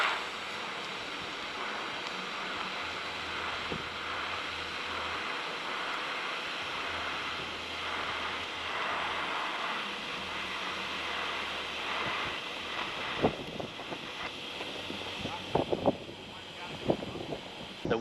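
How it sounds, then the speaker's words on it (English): Steady wind gusting across an outdoor welding site, a broad continuous rush with microphone buffeting that grows rougher and more uneven toward the end, with faint background rumble. "The wind's coming that way and I'm trying to push my argon uphill if I'm having to weld in the wind"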